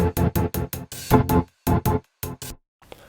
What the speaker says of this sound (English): how to create a rhythmic gated reverb effect